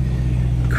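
Naturally aspirated V8 of a BMW M3 with a DCT gearbox, running close by as a brief, steady low rumble with a smooth engine hum and a slight rise at the end.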